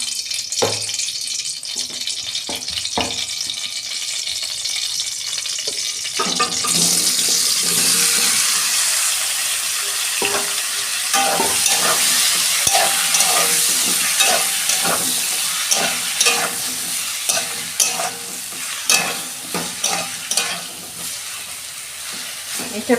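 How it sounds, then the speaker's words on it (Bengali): Young jackfruit frying in oil in a wok, a loud continuous sizzle that swells partway through, broken by repeated clacks and scrapes of stirring, no speech. "কড়াই তেল দিচ্ছি, এঁচোড়টাও একটু ভেজে নেব।"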